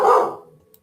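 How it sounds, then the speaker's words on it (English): A single dog bark close by and fairly loud, sharp at the start and trailing off quickly into silence. "Oh, sorry about my dog."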